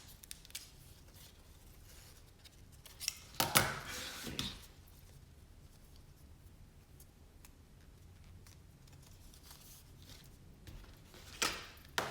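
Scissors snip through a folded paper lining strip, a few quiet crisp cuts clustered in a short burst midway and another near the end, with faint ticks and a low room hush between.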